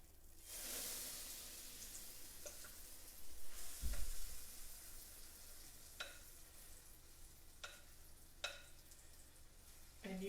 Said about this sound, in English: So I want you to listen to this sizzle